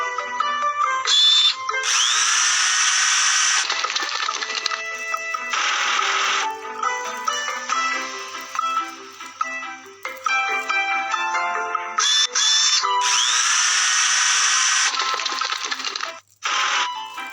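Power drills in a house-repair video game about rebuilding earthquake-damaged homes whir in bursts over busy game music, mixed with chiming coin-like pickup sounds and other bright effects.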